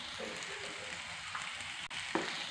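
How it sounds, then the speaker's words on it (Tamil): Green chillies and curry leaves sauté in hot oil for Chettinad poori masala, a steady soft sizzle that runs the whole time with faint stirring clatter and one sharper pop near the end, no voices. "கருவேப்பிலையும் ஆட் பண்ணி நல்லா வதக்கி விட்டுறலாம்."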